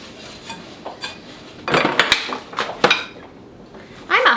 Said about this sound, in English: So I'm just gonna kind of stir this part together